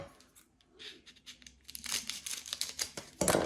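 Paper being cut and handled to line a baking dish for focaccia, with soft crinkling at first, then louder close rustling and snipping that builds toward the end.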